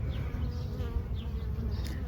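Honeybees buzz in a new hive, a dense steady drone up close with individual bees flying past, no talking.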